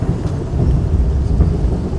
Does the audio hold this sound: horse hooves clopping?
no